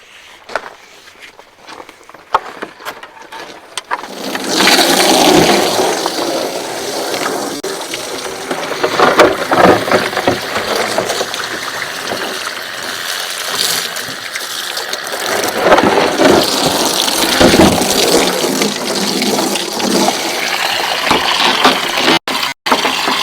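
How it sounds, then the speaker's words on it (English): After a few seconds of faint clicks, a pump switches on and runs loudly and steadily. It gives a mechanical rattling hum mixed with rushing water that lasts to the end. "we'll turn the pump on"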